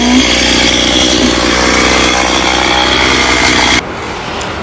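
Loud, steady whine of a chainsaw cutting golden oak tree branches, running continuously at high revs for several seconds before dropping abruptly to a quieter idle near the end.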